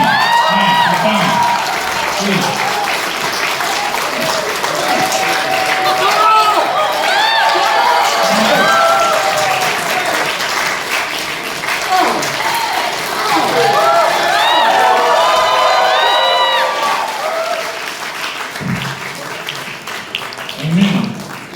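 Church audience clapping and cheering loudly and steadily at a pastor's visiting-team event in Jayapura, with whoops and shouts in a dense crowd wash and voices calling out over it throughout.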